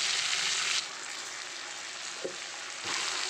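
Potatoes go into hot oil just used for frying prawns, with a dense, loud hiss that drops back to a quieter simmer before another burst of sizzling near the end.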